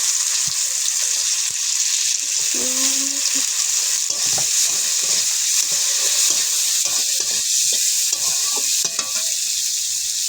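Chopped onion fries in hot cooking oil with a loud, continuous sizzle, and a few light stirring scrapes and clinks sit over the steady hiss.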